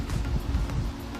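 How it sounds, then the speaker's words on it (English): Strong, steady wind roars and buffets the microphone outdoors on a stormy day, a constant low rumble with no break. "it's very windy"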